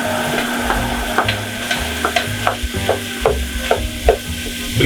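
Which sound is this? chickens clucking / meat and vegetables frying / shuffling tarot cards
meat and vegetables frying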